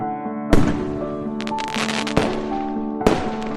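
Firecrackers burst during Diwali celebrations in Puducherry, three loud sharp bangs over a dense crackling, whistling background of festive explosions.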